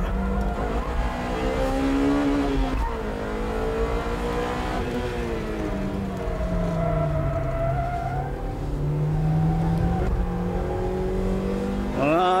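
A Honda Civic Type R and a Mazda BM Roadster racing on a mini course, close engines revving and shifting through gears with steadily rising and falling tones throughout.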